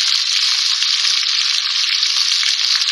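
Whole spices — dried red chillies, cloves, green and black cardamom — sizzle steadily in hot oil in a karahi for chicken korma, a close, loud, even crackle throughout with no voices.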